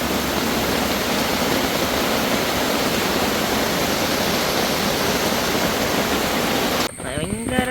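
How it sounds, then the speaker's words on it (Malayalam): Heavy rain at an estate campsite, a dense, loud, continuous roar of falling water filling the whole scene, cut off abruptly near the end when a voice begins speaking. "നല്ല മഴ."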